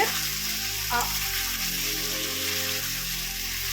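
Singhi (stinging catfish) pieces fry and sizzle in a pan of hot oil for a curry, a steady, close, dense hiss that runs without pause and has a brief stir near the start.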